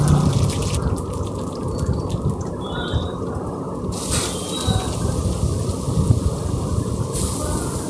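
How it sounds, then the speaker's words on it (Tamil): Mustard seeds and urad dal splutter in hot oil, a dense, continuous crackle of tiny pops at close range with no voices. "கடுகு உளுத்தம் பருப்பு நல்லா பொரிஞ்சதும் நம்ம வரமிளகாய், கருவேப்பிலை, பூண்டு பல் இதெல்லாம் சேர்த்துக்கலாம்."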